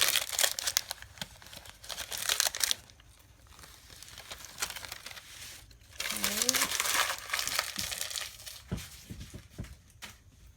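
Backing sheet being peeled off heat transfer vinyl, a crackly crinkling in two longer stretches, close and moderately loud, with quieter pauses between.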